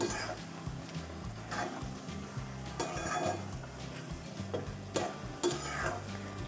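Bottle gourd curry with coriander stirred in a pan, a soft sizzle under clinking spoon-on-metal scrapes and a few sharper taps, fairly quiet and close.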